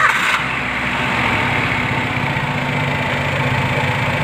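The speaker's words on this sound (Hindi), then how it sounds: "जरा गाड़ी स्टार्ट कर" A car engine catches and settles into a steady, close idle around 1000 rpm, a continuous low rumble without talking.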